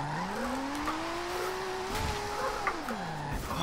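A high-revving Nissan 370Z engine in the racing game Forza Horizon 2 climbs and holds its pitch, then drops away, with a faint tire squeal layered underneath, steady and close.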